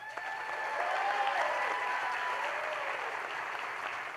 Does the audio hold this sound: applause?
yes